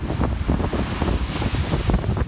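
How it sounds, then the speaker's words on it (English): Waves crashing over a harbor breakwall during an ice storm in Monroe, near Detroit, a loud churning surf with repeated rough bursts of spray and strong wind buffeting the microphone. "waves crashing over the Bulls Harbor breakwall"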